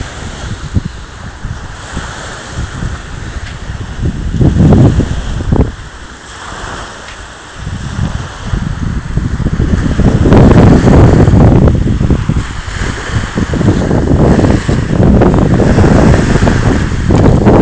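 Surf washing onto the beach at Bo Phut Bay, Koh Samui, with breaking waves surging in repeated swells under steady wind rumbling against the microphone.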